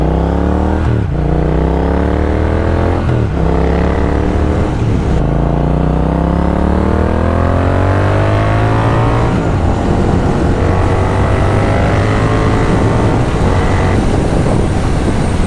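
A Triumph Thruxton RS 1200cc parallel-twin motorcycle under way, its engine loud and close, with rising harmonic sweeps as it accelerates through several gear changes, then a steadier drone at speed.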